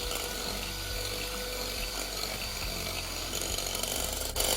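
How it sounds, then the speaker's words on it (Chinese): An electric mixer whisks three whole eggs at high speed in a mixing bowl, a steady, loud, close whirring drone with faint rattling that holds constant throughout, no one speaking. "接着搅拌器用高速打至蛋液起大泡"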